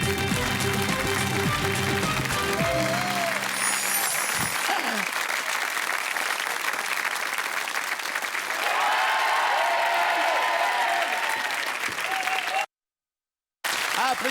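A studio audience at a French TV game show breaks into loud, sustained applause with music and a voice in the mix, which then falls away to a brief silent gap near the end.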